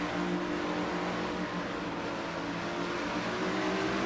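Stock race car engine in a racing video game at Bristol Motor Speedway during the Food City 500, heard from onboard as a steady, continuous droning roar with no talk.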